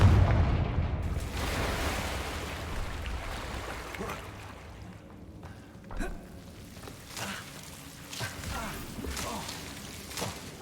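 A Confringo fire spell bursts in Hogwarts Legacy, a muffled booming blast among rumbling, crackling game effects, followed by a few softer thuds.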